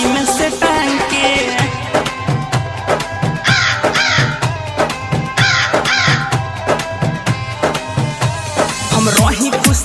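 Crow caws blend into a Bhojpuri song, set against steady drums, rhythmic percussion and melodic instruments that play throughout without pause.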